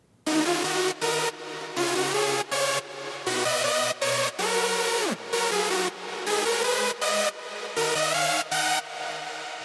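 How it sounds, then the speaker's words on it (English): Hardstyle synth melody with reverb and delay, bright layered chords played in short rhythmic bursts separated by gaps where the echo tails fade, loud and alone. "the dry melody with reverb and delay sounds like this"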